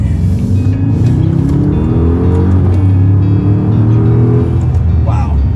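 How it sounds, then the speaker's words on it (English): Maserati Ghibli Trofeo accelerating under manual shifting, a loud steady engine drone climbing in pitch with a brief dip at a gear change, heard from inside the cabin. "I'm gonna try manual shifting now."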